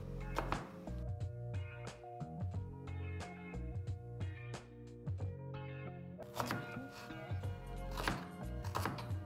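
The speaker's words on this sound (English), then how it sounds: "Cucumber with skin. I'm just cutting up with a serrated knife." A serrated knife cuts through a skin-on cucumber on a board, giving a run of repeated sawing and chopping strokes that stay close and fairly loud, with a busier burst of cutting near the end.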